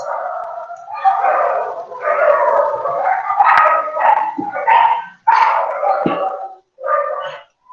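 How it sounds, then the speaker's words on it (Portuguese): Several dogs bark, yip and howl continuously in an agitated chorus at someone passing in the street, fairly close and loud with overlapping voices and no pauses. "Deve estar passando alguém na rua para esse cachorrada estar desse jeito desesperado."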